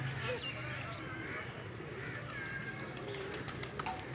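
Pigeons coo softly at a zoo in Dera Ghazi Khan, mixed with other bird calls under a steady crowd murmur, with people talking nearby throughout.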